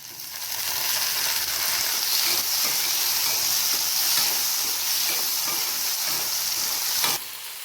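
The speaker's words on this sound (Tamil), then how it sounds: "பூண்டும் வதங்கட்டு." Garlic sautéing in a hot pan for a Tamil green sundakkai vatha kulambu, a steady loud sizzling hiss with occasional stirring clicks, continuous until a sharp scrape near the end.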